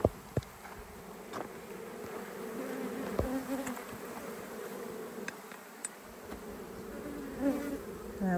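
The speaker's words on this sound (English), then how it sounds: "they are going after the hive that I just worked" Honeybees swarm around a hive left partly open in a bee yard, a steady close buzzing hum with individual bees zipping past the listener now and then, no voices.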